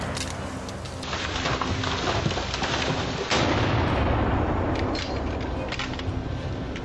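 A gunshot fired at a wild boar near a roadside rings out as a sharp, loud blast, followed by a second heavy report about two seconds later and rumbling echo that lingers in the open air.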